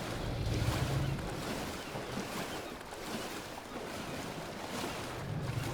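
A character swims through water in the video game Towers of Aghasba, with a faint, steady wash of water and surf-like noise continuing without pause.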